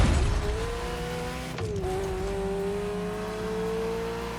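A Ferrari F40 engine revs in The Crew Motorfest racing game, a loud steady drone that dips briefly mid-clip before climbing again as the revs build, with no talk over it.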